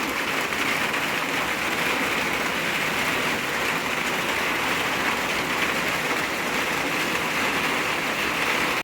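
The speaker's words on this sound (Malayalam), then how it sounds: "അടിപൊളി മഴയാണ്" Heavy rain pours down in a dense, unbroken hiss that stays loud and even from start to finish, with no voices.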